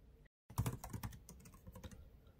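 Fingers tapping out a password on a MacBook keyboard, a quick run of light, close clicks after a brief pause.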